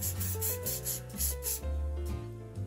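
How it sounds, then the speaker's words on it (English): Hairspray is misted onto finger-waved hair in a few short hissing bursts, the strongest near the start and around the middle, playing over steady background music. "Now give that another little spray"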